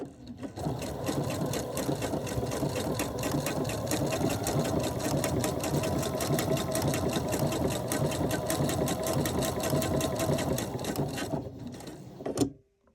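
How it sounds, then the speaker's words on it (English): A home sewing machine runs a triple stitch along the right side of a home-decor envelope-closure pillow, a continuous fast whirring chatter held steady for about twelve seconds, close and clear, then stopping abruptly. "we're going to stitch it on the right side"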